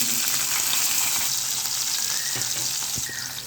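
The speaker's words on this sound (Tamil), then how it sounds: "வெங்காயம் நல்லா வதங்கணும்" Shallots sauté in hot oil with mustard seeds and curry leaves, giving a steady close-up sizzle with a few small pops and stirring scrapes that soften slightly at the end.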